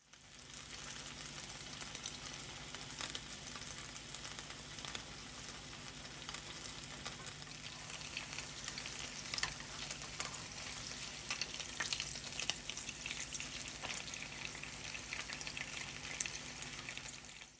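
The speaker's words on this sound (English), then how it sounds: "I'm going to place the seam side down in the hot oil. And I'm just going to fry those till they get nice and crispy." Rolled chicken taquitos fry seam side down in hot oil, a dense, continuous bubbling sizzle at moderate level with faint crackles and pops, steady throughout with no talking.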